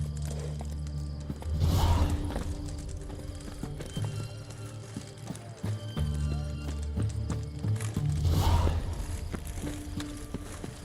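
Roach, a horse in The Witcher 3 video game, gallops with steady rhythmic hoofbeats, swelling twice to louder bursts, with a whinny, under game sound and no talk.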